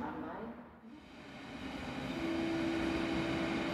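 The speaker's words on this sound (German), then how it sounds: "Gleis 6. Einfahrt ICE 2904 von Frankfurt am Main Flughafen Fernbahnhof." An ICE high-speed train pulls into a platform at Berlin Ostbahnhof, its hum and rumble swelling and growing louder as it approaches, with a steady whine emerging over the station noise.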